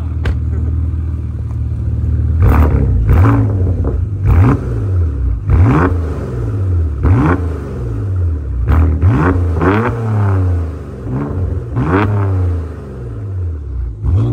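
A tuned car with a Shiftech remap revs hard again and again, its engine note rising and falling in loud, close bursts with a deep rumble underneath; people comment briefly between the revs.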